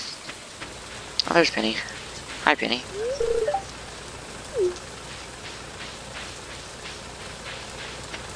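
Steady rain falls in the farming game Stardew Valley, a soft continuous hiss running through the whole stretch while a person talks briefly over it.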